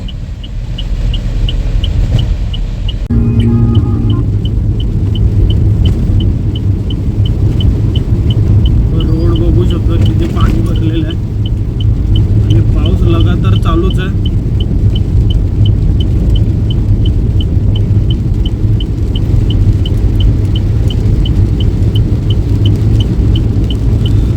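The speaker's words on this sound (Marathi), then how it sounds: "अचानक एवढे मोठे खड्डे येतात ना, गाडी पूर्ण आदळते" A truck drives along a rain-soaked road full of potholes, heard from inside as a loud, steady low rumble with occasional jolts and rattles, and voices now and then.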